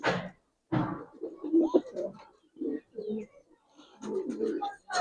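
A Jabra pigeon of an old Giribaz line, among other pigeons offered for sale, coos nearby in several short throaty bursts separated by brief silences.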